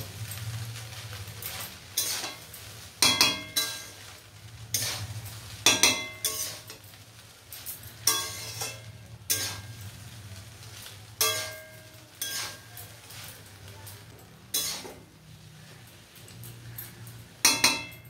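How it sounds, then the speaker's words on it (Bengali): Soya rice ingredients with ground dry chillies and coriander stirred in a pan, repeated sharp clinks and scrapes of a spatula against metal at irregular intervals over a low background hum. "এবারে আমি একসাথে এগুলোকে নাড়াচাড়া করব।"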